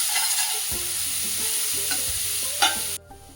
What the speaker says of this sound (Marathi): आता त्याच्यामध्ये टाकूया हिरवी मिरची, चिरून घेतलेला कांदा. आता छान असं परतून घ्यायचं.